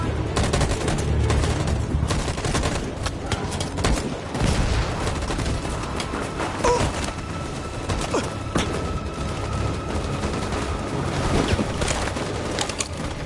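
Rapid gunfire in the video game Detroit: Become Human: dense, overlapping volleys of shots crackle loudly and continuously throughout, like a sustained firefight, with no clear voices.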